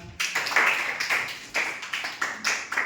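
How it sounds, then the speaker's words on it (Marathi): A group of schoolchildren clapping their hands in a classroom, a quick run of sharp claps at a lively, slightly uneven rhythm lasting a few seconds. "टाळ्या वाजवा आता"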